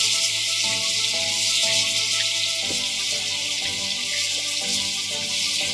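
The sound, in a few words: marinated mackerel pieces frying in tempering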